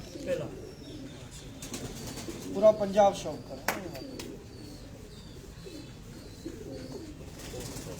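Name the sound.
pigeons cooing on a rooftop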